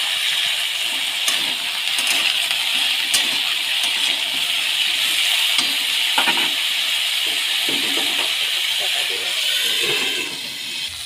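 Potatoes, eggplant and drumstick stems fry together in a pan for a Bengali shukto, giving a steady, close sizzling hiss throughout with a few faint clinks and stirring scrapes.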